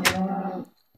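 A single short, low grunt from a Minecraft pig, close and fairly loud, trailing off within about half a second into near silence.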